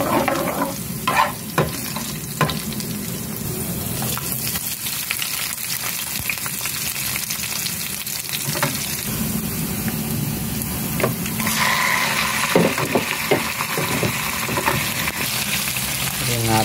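Garlic sizzling loudly in a hot pan, a steady close frying hiss with occasional stirring scrapes throughout, no talk.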